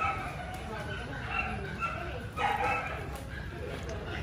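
Corgi puppies yipping, barking and whimpering in short, repeated, close bursts, mixed with human voices talking over them.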